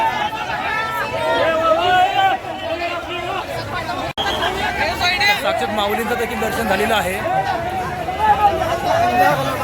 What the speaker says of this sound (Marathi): खूप अशी गर्दी या ठिकाणी जमलेली आहे